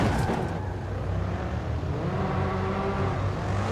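Several cars race past on a highway in Forza Horizon 5, among them a BMW M4 and M5. A steady, loud engine roar and whir holds through the whole stretch, with a rising rev near the end and no talk.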